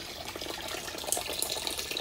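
A solar-powered garden water feature runs with a steady outdoor trickle and splash of flowing water, continuous and fairly close, with no talk.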